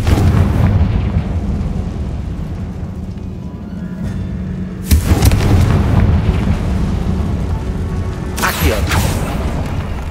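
Confringo fire spell explosions in the video game Hogwarts Legacy, inside a tomb: two heavy booming blasts over a constant rumbling game soundscape, loud and close.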